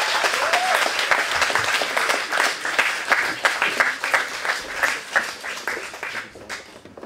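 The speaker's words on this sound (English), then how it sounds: "everyone give a round of applause for Jamal Colin" An audience at a youth awards event in London claps for a poet about to perform, with dense applause fading toward individual claps that trail off at the end, and a voice briefly heard near the start.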